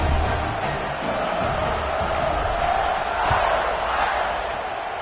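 Stadium crowd buzzing in a football video game after a touchdown, a steady, loud, broad roar of many voices with small swells, continuous for the whole stretch.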